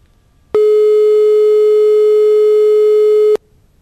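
Steady telephone busy tone after a dropped call to a reporter at a sports palace, a single sustained beep lasting about three seconds, loud and alone against near silence before and after.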